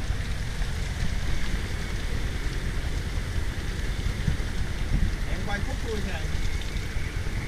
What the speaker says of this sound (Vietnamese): Bên ngoài mưa to lắm anh em.